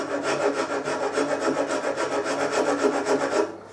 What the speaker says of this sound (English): So to blend the head into the neck, I use a half round rasp.